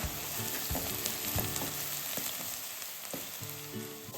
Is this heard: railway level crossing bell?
no